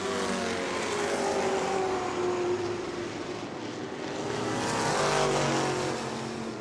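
Race cars roar past on the New Smyrna oval in a late-race laps session, engines loud and continuous, with the pitch swelling and fading as cars pass close by.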